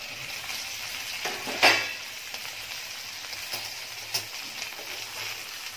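Steamed eggplants are turned over in a pan while making a spiced eggplant bharit: a quiet, steady low sizzle with one sharper scrape of a utensil, plus a few faint clicks.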